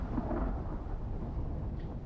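Thunder rolling through a lightning storm in the survival game Icarus, a steady low rumble that fills the whole moment at moderate loudness with no voices over it.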